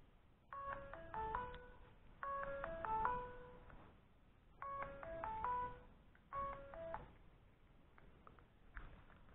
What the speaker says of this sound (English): I make your phone ring.